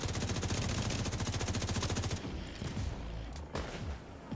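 Rapid automatic gunfire in a video game, played during an early livestream, rattles out as a dense, loud burst for about two seconds. It gives way to scattered shots and game noise with no talking.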